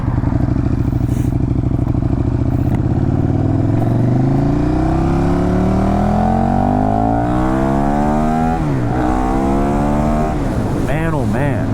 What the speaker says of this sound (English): this is an aero exhaust on this, and you guys heard in the intro there the exhaust note